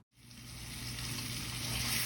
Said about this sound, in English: So now that they are sizzling